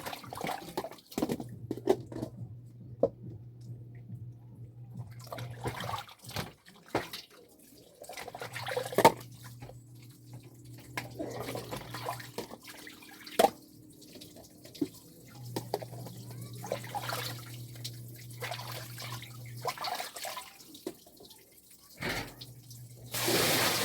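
Water runs from a tap and drips while dishes are washed at a sink, with quiet trickling and splashing and clinks of dishes between intermittent bursts of the faucet's low hum.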